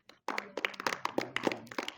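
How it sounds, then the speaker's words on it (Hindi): A small audience at a school debate competition claps for the participants, a modest and fairly close patter of hands that starts abruptly and continues unevenly throughout. "तो इनके लिए भी जोरदार तालियां बजाइए"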